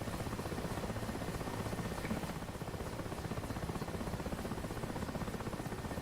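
A helicopter in the DCS flight simulator thrums steadily with a rapid rotor chop and a constant engine whine, heard close and loud from inside the cabin.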